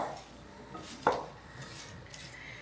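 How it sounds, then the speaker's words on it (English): A spoon knocks and scrapes against a heavy pan while hot caramel mixture is stirred, with one sharp clink standing out among quieter, fainter scraping sounds. "I really want to give this a stir"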